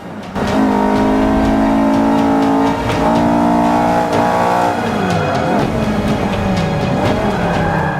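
Car in the racing video game Forza 5 with its rear sliding out, a steady loud engine drone broken by rising tire squeal and shifting pitch as the back end steps out, no talking.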